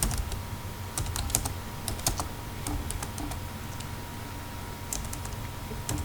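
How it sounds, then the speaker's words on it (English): Steady clatter of keys on a computer keyboard, fast irregular keystrokes with a few brief pauses, close and moderately quiet with no talk. "Whatever you want to say, type it here."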